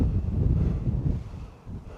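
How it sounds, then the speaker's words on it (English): Low, blustery wind buffets the microphone in rumbling gusts on a hilltop, steady for a moment then dipping briefly. "Holy crap, it's windy up here."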